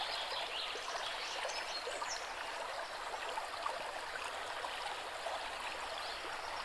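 A forest stream flows steadily with a continuous bright rush of water, close and even throughout, with faint bird calls in the background and no voices.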